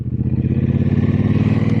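A Triumph Speedmaster Chrome with a liquid-cooled 1200cc parallel twin engine, single overhead cam and four valves per cylinder, idling close by with a steady, even pulsing thrum.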